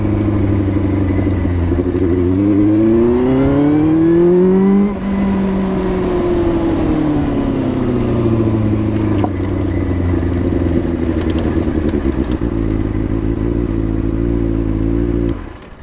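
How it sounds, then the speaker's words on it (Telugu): A Benelli 600i inline-four superbike idling and revving nearby, its engine pitch rising and falling through a couple of blips before settling into a steady loud idle, with no talk. "ఈ రోజు తీసుకొచ్చిన బైక్ అయితే బెనెలీ 600i."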